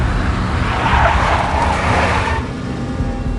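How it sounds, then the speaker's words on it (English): A big black Mercedes drives in the Max Payne video game, its engine a steady roar with a tire-squeal hiss swelling through the middle, loud and continuous before easing off near the end. "A big black Mercedes."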